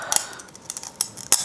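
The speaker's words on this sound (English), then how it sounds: "I'm gonna use a pair of pliers to break it off" Pliers snapping and clipping at a piece of IKEA furniture, several sharp clicks and cracks at uneven intervals, close and crisp.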